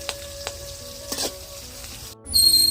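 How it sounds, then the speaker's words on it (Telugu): Chopped onions frying with curry leaves in a pan for Rayalaseema-style uggani upma: a steady close sizzle with a few sharp pops, a brief hush near the end, then a louder burst of hissing. "మంచిగా అయితే వేగనిద్దాము ఉల్లిపాయలు"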